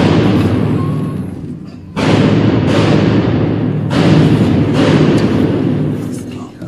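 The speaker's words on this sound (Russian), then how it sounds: "Стреляют, видимо." Several loud, sharp gunshots during a school terrorist attack, spaced a second or two apart, each leaving a booming echo; a voice speaks in the background of a muffled recording.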